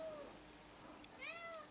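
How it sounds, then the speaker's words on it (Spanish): A house cat meows twice, one short call followed by a longer rising-falling cry, close and clear in a quiet room among potted carnivorous plants. "¡Ey! Gato peligroso."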